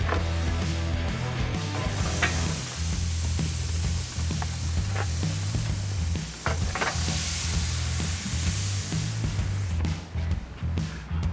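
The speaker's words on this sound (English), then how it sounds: "Let's get the ribs on and get them cooking." Barbecue ribs sizzle loudly and steadily on a grill held at 400 degrees, a dense continuous hiss with scattered pops and crackles throughout, close and without talk.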